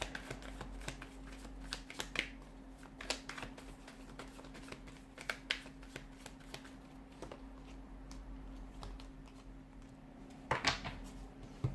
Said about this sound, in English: I just want to pull a few more cards to crown the reading.